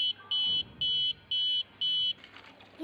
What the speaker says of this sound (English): Yellow bulb and buzzer also will turn on.